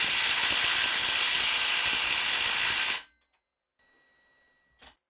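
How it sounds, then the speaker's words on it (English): Bosch GDS 18V-450 HC cordless impact wrench tightening a nut, a loud, steady hammering burst lasting about three seconds that cuts off abruptly, followed by near silence and a faint brief clatter. "Now, let's continue with a 5-second tightening."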